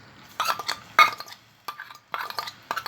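Garlic and coriander stirred in a pan of ghee and oil on the stove, light clinking and scraping of a spoon against the pan in a few short bursts, close and fairly quiet.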